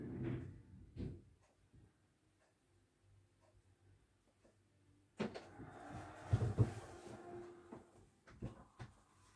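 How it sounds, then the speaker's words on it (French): Hallway door in a home being shut, heard as soft knocks and clunks followed by a louder burst of bumping and latch sounds midway, fairly quiet and close, with no speech. "j'ai fermé la porte du couloir"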